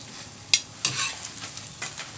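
Egg paratha made from liquid dough frying in a pan, with a soft continuous sizzle broken by a couple of sharp clinks and scrapes as it is turned or stirred.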